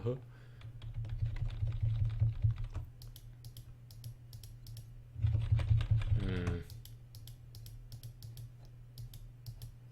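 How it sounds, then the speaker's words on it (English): Sharp computer mouse clicks on a desk come through a desk-mounted mic as scattered, quick ticks, mostly between stretches of a person talking. "I hope my mouse clicks aren't too loud, because I have my mic sitting on my desk"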